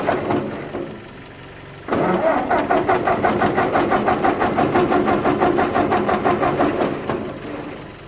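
A Ford 8N tractor engine cranks briefly, then catches and starts, settling into a steady, loud rhythmic idle that runs for several seconds before easing slightly at the end.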